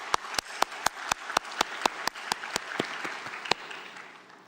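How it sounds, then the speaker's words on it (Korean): A church congregation claps in a fast, even rhythm of sharp, loud hand claps that slow slightly and fade toward the end, with faint crowd murmur underneath. "다 같이 예수님께 영광의 박수 한번 올려드립시다"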